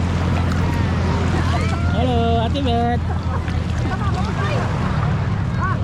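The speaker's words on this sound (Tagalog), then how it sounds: "jet ski oh Ba't ganyan yung makina niya?" A jet ski drones steadily in the distance beside open sea water and wind at a beach, while people talk and call out nearby.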